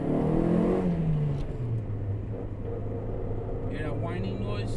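A 1988 Honda Civic Wagon Realtime 4WD with 288,000 miles accelerating hard, its engine rising in a steady rumbling drone with a whine climbing in pitch, close and loud inside the car, with some speech mixed in.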